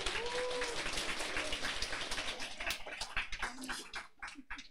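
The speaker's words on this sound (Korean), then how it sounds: "박수 한번 쳐주세요." Audience clapping at a Korean business lecture event, a fairly loud burst of applause from a crowd that rises and then thins out, scattered claps trailing off toward the end.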